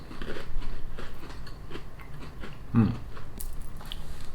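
Someone chews crunchy, solid biscotti-like cookies close up, with intermittent dry crunches and one sharp louder bite near the middle. A voice murmurs faintly in the background.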